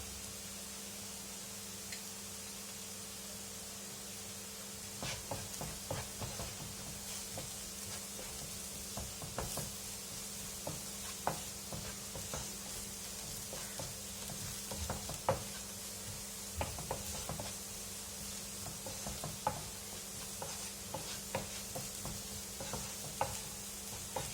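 Coriander powder is stirred and roasted in a pan on low flame for mushroom masala, with a soft, steady sizzle and frequent light scraping taps of the spoon against the pan throughout, fairly quiet and with no talking.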